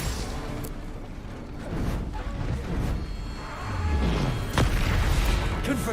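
A Confringo blasting spell explodes in Hogwarts Legacy combat, giving loud booming blasts with crackling bursts and whooshes over a dense, continuous game-battle din, heaviest near the end.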